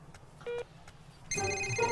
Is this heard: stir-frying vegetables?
no